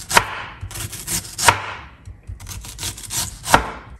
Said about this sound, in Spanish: vamos a empezar a cortar nuestra cebolla